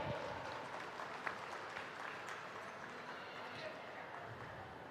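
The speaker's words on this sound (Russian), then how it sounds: "И давай встретим его аплодисментами" Steady audience applause fills the room throughout at an esports hockey championship final award ceremony, a continuous dense clapping wash with no pauses.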